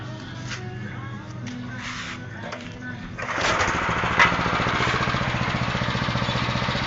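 A small petrol grass cutter's engine starts with a quick pull and then runs steadily at a close, loud, buzzing drone with a fast rhythmic pulse, after a few quieter knocks and handling sounds.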